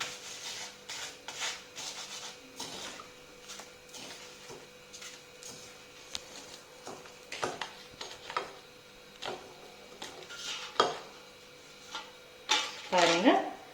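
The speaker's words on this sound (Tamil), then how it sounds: "நல்லா உப்புல போட்டு இந்த மாதிரி நல்லா கிளறி பொரிங்க" Papads fried in salt in a pan, stirred and scraped, making scattered scratchy rubbing and clinking sounds with bursts of louder scraping near the end.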